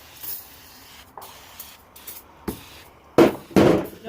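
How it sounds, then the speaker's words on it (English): An aerosol can of multi-purpose lubricant hisses in several short bursts, the last two longer and louder, close up with small clicks between sprays. "I'll spray it real good."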